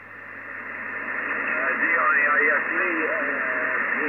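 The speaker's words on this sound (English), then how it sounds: "It's a bit buried in the noise, that station" Amateur radio station transmitting at 100 W from Malta to a station in Australia, a faint voice barely rising out of a steady hiss of static noise, warbling and fading as the band crackles.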